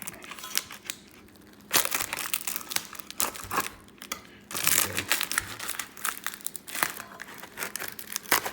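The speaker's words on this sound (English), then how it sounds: "So this is from Rick Dobbertin, and it's tape. It's tough" Tape being pulled, torn and handled during a hack on a C8 Corvette, with crinkling, crackling bursts and pauses between, close and fairly loud.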